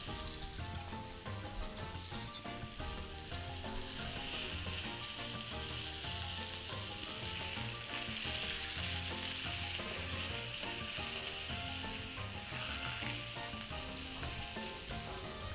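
Garlic paste and ground meat frying in a pan give a continuous, even crackling sizzle, close up and steady throughout, with no talking.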